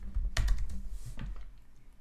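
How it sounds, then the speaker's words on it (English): Computer keyboard keys tapped while entering an email address, a short close burst of clicks that thins out near the end, with no talking. "type in the email address once right there"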